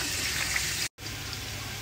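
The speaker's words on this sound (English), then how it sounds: "we're gonna rinse the liver, kidney, and hearts with water." Tap water runs in a steady, close gush as goat liver, kidney and heart are rinsed, with one brief cut to silence partway through.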